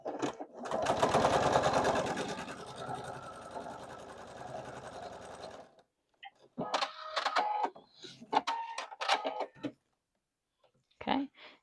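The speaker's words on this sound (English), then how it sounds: "You're going to sew on the line." A sewing machine stitches a quarter-inch seam along a quilt block, a fast whirring run of about five seconds that slows and stops, followed by a few short bursts of handling noise.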